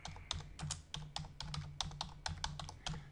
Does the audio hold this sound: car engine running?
no